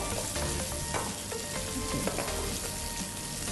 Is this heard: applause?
no